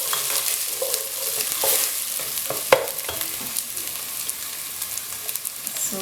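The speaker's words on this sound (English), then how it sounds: "After a few minutes of stir frying the onion, I'm adding the garlic and the ginger." Onion, garlic and ginger stir frying in a pan for a vegetable bhujiya, a steady soft sizzle broken by scraping clicks and taps of a utensil stirring against the pan.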